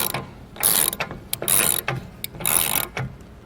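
A ratchet tightens the bolts on an RV water filter canister, working in three bursts of rapid clicking, each about half a second long, separated by short pauses and a few single clicks. Close and fairly loud, with no talk.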